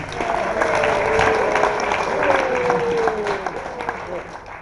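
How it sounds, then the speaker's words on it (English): A burst of applause during a wedding best man speech, steady clapping from a small group that carries on for several seconds before thinning out. "a small little round of applause again for them."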